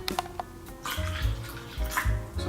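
Water poured into white paint for a pour painting, a short liquid splash and trickle in a couple of bursts, close and fairly quiet.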